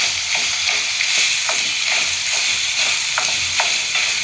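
Ground ginger, garlic and coconut paste sizzles and fries steadily in a pan on a home kitchen stove, with a spoon stirring it in repeated scraping strokes close by, no voices.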